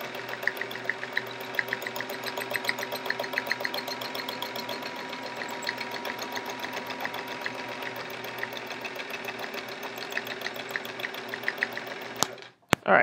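Sewing machine stitching echo swirl free motion quilting on a chevron quilt, a steady fast mechanical whir with rhythmic needle clatter running continuously, stopping abruptly near the end.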